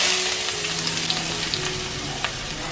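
Chopped onion frying in hot oil for a Kerala-style prawn fry, a steady close sizzle with faint crackles and occasional spatters throughout, no voices.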